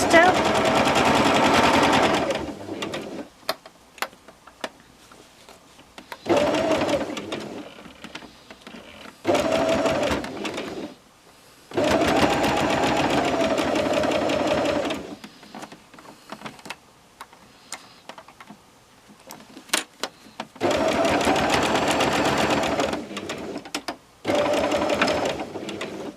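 Sewing machine stitching down a quilt binding in rapid rattling bursts of several seconds each, separated by pauses in which a voice talks quietly.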